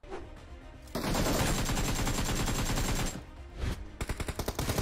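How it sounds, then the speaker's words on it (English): Rapid automatic weapon fire in PUBG Mobile, a quick burst then a long continuous stream of shots, ending in a few separate pops, loud and close with no talking. "Oh my god, he shot him through a bush."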